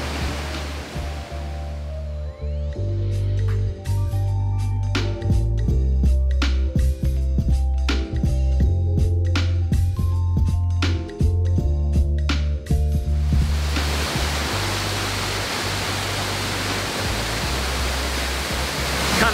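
Karamatura Falls, a 15-meter waterfall in the Waitakere Ranges, roars as a steady, dense wash of falling water. Music plays over it for most of the clip, then the waterfall continues alone, loud and close.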